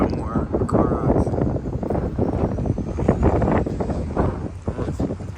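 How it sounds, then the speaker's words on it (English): Strong gusting wind buffets the microphone outdoors at a public car auction, a loud rumbling roar that runs throughout. "It's so windy."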